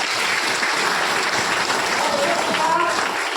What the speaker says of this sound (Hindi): दोस्तों एक बार महिला समिति की ताली होना चाहिए।